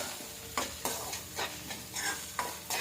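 Onion pieces frying in oil with chicken in a pan sizzle softly while being stirred, with a series of scraping, spluttering bursts at irregular intervals over the quiet fry.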